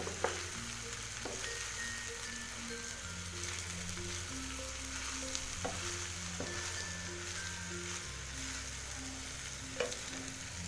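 Chicken and vegetable biryani rice fries in a pan with a steady close sizzle and crackle, soft stirring scrapes and clinks now and then, over a low background hum of music, no voices.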